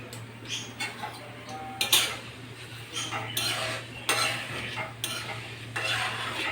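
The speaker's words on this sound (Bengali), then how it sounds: "তার মধ্যে মেথি, কালো জিরেগুলি দিয়ে দেবো। এবার ভেজে নেব, হালকা ভাবে ভেজে নেব।" Fenugreek seeds and black cumin being lightly fried in oil, with a faint sizzle under irregular clinks and scrapes of a utensil against the pan, plus a low steady hum.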